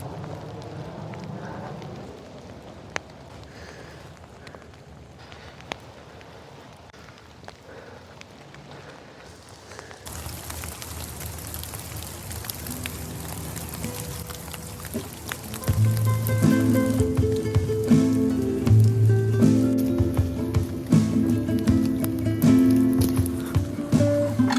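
Steady soft patter of rain in the woods of Seattle's Discovery Park, later joined by louder broadband noise and tonal sounds, continuous throughout with no talking.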